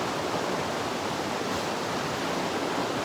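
Fast spring runoff in Cataract Creek rushes in a steady, loud, broadband roar that fills the scene from close by, unbroken and without voices.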